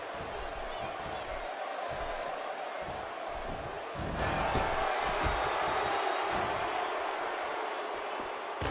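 A wrestling arena crowd at a WWF Saturday Night's Main Event match between Shawn Michaels and Jim "The Anvil" Neidhart, a steady roar of cheering that swells louder midway through and stays high.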